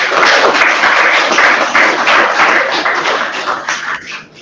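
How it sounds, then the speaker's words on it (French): Applause fills a conference hall at an African education and technology event, a dense, steady wash of many clapping hands that stays loud throughout and tapers slightly at the end. "Madame Sanou, je ne sais pas si vous avez entendu les applaudissements ici dans la salle."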